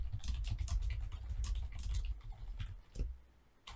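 Quick, uneven bursts of typing on a computer keyboard, soft close key clicks in short runs with brief pauses, heard alone in a quiet room.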